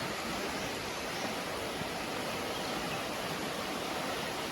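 Continuous rushing of a village stream swollen by monsoon rain, an even broadband wash, with no voices.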